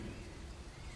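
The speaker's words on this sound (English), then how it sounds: "Enjoy the rain sounds." Rain falls in a steady, soft hiss with a low rumbling undertone, even and continuous over the short stretch, faint and without voices.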